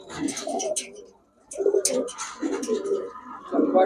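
Giribaz pigeons coo close by in repeated soft, throaty phrases with short pauses between them.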